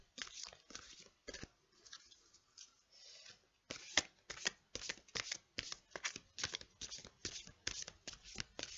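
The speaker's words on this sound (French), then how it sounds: "Alors, je vais mélanger encore un petit peu." A deck of oracle cards is shuffled close up in a rapid series of crisp riffling bursts, pausing briefly midway before resuming in quick rhythmic riffles.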